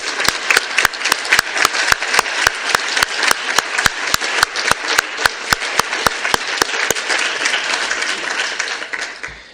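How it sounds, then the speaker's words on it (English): An audience gives a round of applause at the media launch of the IPBES Global Assessment Report: dense, loud, sustained clapping from a crowded room that tapers slightly toward the end. "I'd like to ask for one more round of applause for everybody."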